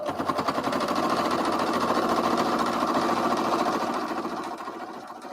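A sewing machine runs steadily, stitching homemade bias tape onto a tabard: a fast, even mechanical whirr with rapid needle ticks, close and loud, slowing and fading near the end.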